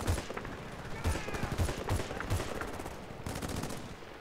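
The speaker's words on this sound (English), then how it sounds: "I think I shot two guys with one bullet." Gunfire in the video game Bad Company 2: a burst of rapid shots, then several sharp single reports spaced about half a second apart, fairly close and loud.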